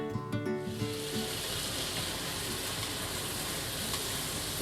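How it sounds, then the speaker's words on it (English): Beef steak pieces fry in a single layer in a pan, starting with a brief clatter and then a loud, dense, steady sizzle; no one talks. "we'll go ahead and just put that in a single layer and cook it until all the juices come out and it turns into more of a sauce"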